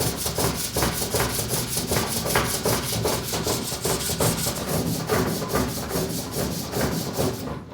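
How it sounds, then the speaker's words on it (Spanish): Wood sanded by hand in steady back-and-forth strokes, a close, rhythmic scratchy rasp repeating about four times per second throughout with no talking. "Bueno, ya casi lo tenemos, vamos a lijarlo."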